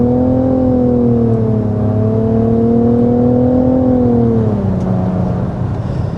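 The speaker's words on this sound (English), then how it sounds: "You really can feel that torque as Mason accelerates there." A 2024 Nissan Rogue accelerates, its engine note rising steadily and then easing as the revs climb and settle, loud and close from inside the cabin, with no talking.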